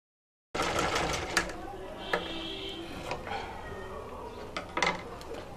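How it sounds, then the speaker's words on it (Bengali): Sewing machine stitching a blouse, a soft mechanical whirr with small clicks and taps, fairly faint and close, under someone talking. "তো আমি এখানে মেশিনের মাধ্যমে এখন সেলাইটা করে নিচ্ছি"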